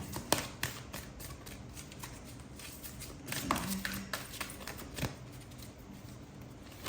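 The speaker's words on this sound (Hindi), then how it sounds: "लेट मी शफल अगेन, दोबारा से देखते हैं" A deck of tarot cards being shuffled by hand, a run of quick papery riffles and soft slaps at close range, with a few sharper flicks throughout.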